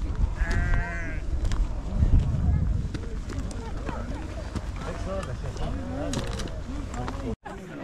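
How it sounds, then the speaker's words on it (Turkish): A flock of about 500 sheep on a village nature walk near Göbeklitepe bleats repeatedly, many overlapping calls near and far, with people talking over the animals. "500 koyun varmış."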